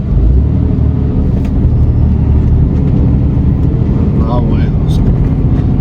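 A long-haul truck cruising on a road gives a steady, loud low rumble and drone throughout, with someone speaking over the engine noise.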